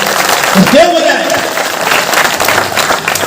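Audience applause at a Mahashivratri poetry gathering (kavi sammelan) in Timarni, a dense crowd clapping throughout, with a voice speaking over it.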